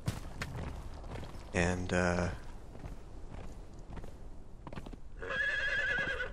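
Horse in the video game Conan Exiles, footfalls and clopping hooves with two loud whinnies, one early and one near the end, under a speaking voice.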